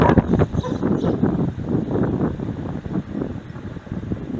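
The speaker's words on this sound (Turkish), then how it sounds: "Bugün hava çok rüzgarlı. Gerçekten çok rüzgar var." Strong wind buffeting the microphone in steady rushing gusts at a house overlooking Lake Manyas, loud and continuous with no talking.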